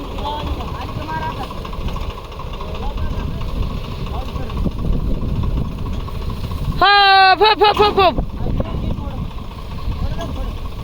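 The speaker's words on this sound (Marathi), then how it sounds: "ट्रॅक्टर वळते पुढा" A tractor engine chugs steadily at low pitch throughout, with voices and a brief higher tonal burst partway through.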